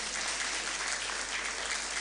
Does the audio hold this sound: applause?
yes